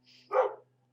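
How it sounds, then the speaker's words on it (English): A single dog bark sounds from a room away, short and fairly faint against a quiet background hum. "you can probably hear my dog now"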